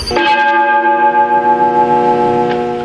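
A recording imitating a church bell rings out loud and close, one strike whose bright metallic tone hums and slowly fades over a few seconds, alone with no voices.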